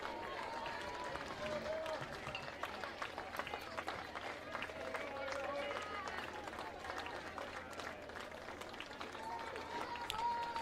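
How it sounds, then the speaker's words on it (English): At a Cal Ripken 10U World Series youth baseball game, a crowd gives a sustained ovation, a dense, steady patter of clapping from the stands lasting several seconds. "As you hear a nice ovation from the crowd."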